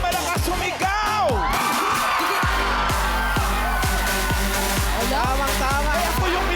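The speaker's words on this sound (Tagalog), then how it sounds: "Ang mabubunot tayo pinakamalakas sumigaw!" Studio audience on a Filipino noontime variety game show shouting and cheering loudly to be picked, a dense continuous roar over pounding music beats throughout.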